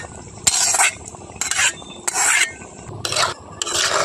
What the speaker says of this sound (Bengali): খুব ভালো করে নাড়াচাড়া করে দেব।